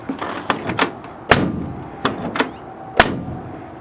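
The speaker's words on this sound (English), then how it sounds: "listen to the way that door closes" Several solid thuds from the restored door of a Ford F100 pickup closing, sharp and close with short gaps between them, the strongest at the end.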